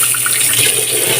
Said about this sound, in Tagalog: Matalsik kasi buhay pa.